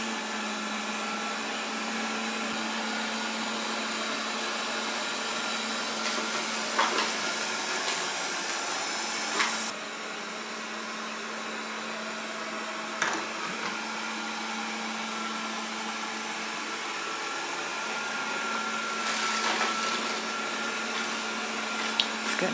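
Proscenic 820S robot vacuum cleaner running steadily while picking up cracker crumbs and raisins, a constant airy whir with a low hum and occasional sharp clicks and rattles as debris is sucked in, close and unbroken.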